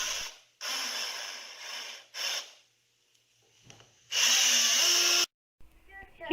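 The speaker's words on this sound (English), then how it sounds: "Put 3 screws in the top and 3 screws in the bottom." Power drill driving screws into wood boards while building a sawhorse: three loud whirring bursts of a few seconds each, then a longer final burst, separated by quiet pauses and soft handling noises.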